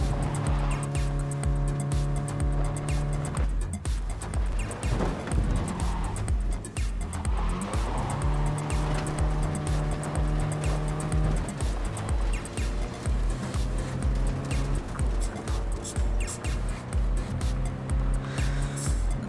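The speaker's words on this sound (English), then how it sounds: "So as soon as you find Saul, I'll fire up the engine and we'll speed at him." A car in the video game Cyberpunk 2077 drives at speed, its engine revving through rising and falling gear changes with tire squeals and skids mixed in, loud and continuous throughout with no speech.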